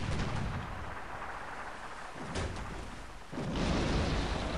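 Cannon fire from enemy ships in the naval combat of Sid Meier's Pirates, a series of deep booming blasts and rumbling roars that rise and fall, with one sharp burst near the end.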